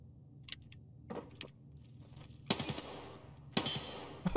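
Hipfire gunshots in the shooter game Escape From Tarkov: a couple of faint clicks early, then two loud bursts of rapid automatic fire separated by about a second of quiet.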